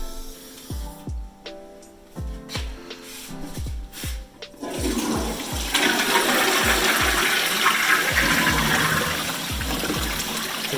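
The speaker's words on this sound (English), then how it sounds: "Yeah, that's a big flush." A household toilet under repair is flushed in an off-grid house renovation: a few knocks and clicks, then a loud, close rushing gush of water that keeps roaring steadily to the end, with no voices.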